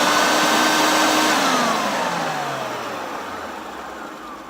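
A refurbished canary-yellow Hoover Turbopower 2 U2090 upright vacuum cleaner whirs loudly at first, then its motor and brush roll wind down, the pitch falling and the sound fading steadily.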